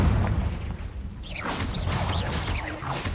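A Confringo blast spell explodes in the Hogwarts Legacy video game, heard as a low booming rumble followed by crackling, whooshing bursts that continue steadily for a few seconds.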